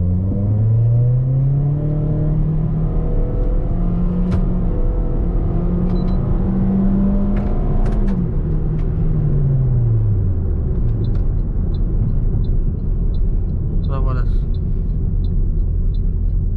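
Heavily modified Suzuki Grande car engine revving up and down in repeated loud, close swells, a steady rumble underneath and a voice speaking briefly over it.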